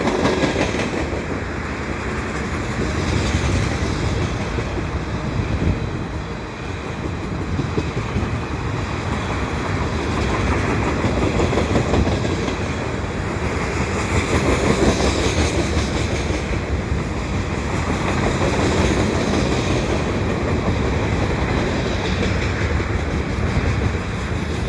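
A CSX mixed freight train rolls under a boulevard footbridge, a loud, steady rumble of wheels and cars with rhythmic clatter that holds the whole time without pause, close by and with no talk.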